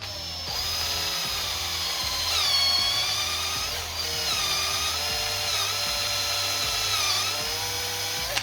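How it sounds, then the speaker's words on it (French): Power drill boring a hole in a car suspension control arm for an insert, a close, steady high whine that dips and rises repeatedly as the bit bites into the metal. "On perce."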